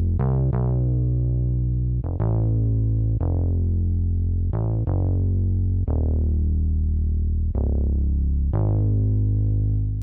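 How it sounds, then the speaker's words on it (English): Deep, distorted synth bass line for a Logic-style hip-hop beat, playing solo as a series of sustained plucked notes that decay slowly, loud and close. "I wanted to come up with a different bass line for that section"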